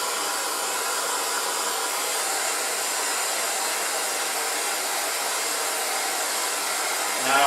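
A heat gun blows steadily on the wrist pin area of a Moly piston, a constant close, loud airy whoosh that runs unbroken throughout, with a small bump in level at the very end.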